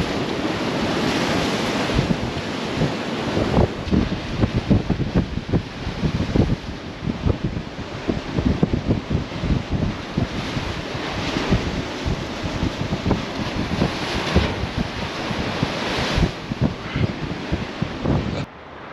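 Storm waves pounding the Lake Erie shore near the Niagara River under fierce, gusting wind, a continuous loud roar with crashing surf and heavy wind buffeting the microphone, no voices.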